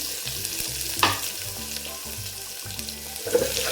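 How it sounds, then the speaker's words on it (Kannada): Chopped onion sizzles in a pan for sambar, a soft continuous frying hiss with a couple of clinks from a utensil, low-level and close. "ಹಾಗೆ ಕಟ್ ಮಾಡಿರೋಂಥ ಈರುಳ್ಳಿನೂ ಸಹ ಸೇರಿಸ್ತಾ ಇದ್ದೀನಿ."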